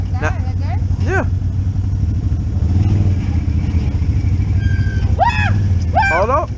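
A side-by-side off-road vehicle on a trail, its engine idling and revving in a low steady drone close by, with voices talking over it throughout.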